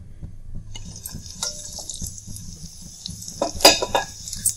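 Stuffed green pea kalonji drops into hot oil in a kadhai, setting off a bright hissing sizzle with light utensil clinks, then a louder burst of crackling and clatter near the end.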